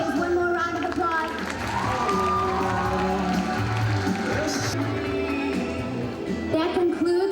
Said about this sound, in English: Let's give the boys one more round of applause